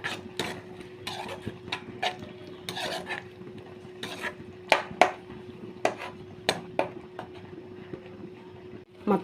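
A spoon stirs tomato masala with salt and chili powder in a pan for a Telugu-style mango curry, making repeated scraping clinks against the metal at an uneven rhythm, close and moderately loud.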